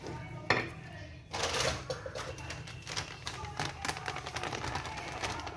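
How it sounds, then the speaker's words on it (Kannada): Wheat flour dough is worked to a chapati-like consistency in a bowl, with repeated light clatters and taps of bowl and utensil close by, an irregular steady rhythm, and some low voice in the background. "ಇನ್ನು ಸ್ವಲ್ಪ ಗೋಧಿ ಹಿಟ್ಟನ್ನು ಹಾಕ್ಕೊಂಡು ಮಿಕ್ಸ್ ಮಾಡ್ಕೊಳ್ಳೋಣ"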